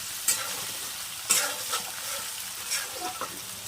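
Onions fry in a pan, hissing steadily while a spatula scrapes and stirs them in several bursts, close and with no talking.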